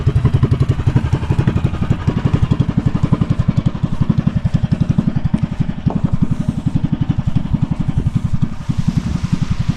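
A new engine on a fishing boat in Barangay Bucana, Philippines chugs steadily with rapid, even thumping pulses, loud and close, running continuously throughout.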